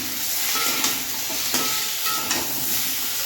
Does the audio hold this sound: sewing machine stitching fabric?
no